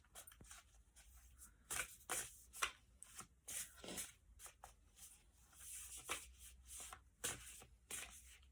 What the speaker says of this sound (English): I think it's better if I shuffle this way.